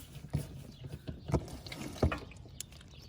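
Engine oil draining from a 2019 Yamaha VMax 1700 during its first service, a faint liquid trickle with a few soft drips and splashes, close and quiet with no talking.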